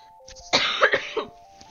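A streamer coughs in a short harsh burst of several hacking coughs close to the microphone, over a faint steady tone from a game in the background.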